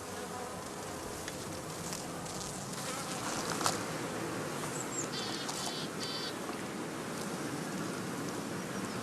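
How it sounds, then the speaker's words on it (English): Steady dense buzzing of many bees leaving a heather skep hive in a spring apiary, continuous and fairly loud, with faint outdoor ambience. "This allows the bees, as soon as they have arrived at the new site, to set out on their first orientation flight."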